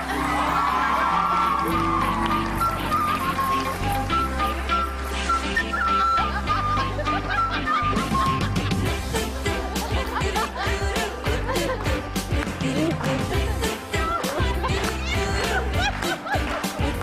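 A studio audience whoops, cheers and claps loudly and continuously to greet a guest on a talk show, a dense and energetic roar.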